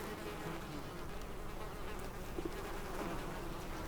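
Honeybees in an urban beehive box make a steady, dense buzzing hum that stays even and fairly faint throughout, with no voices.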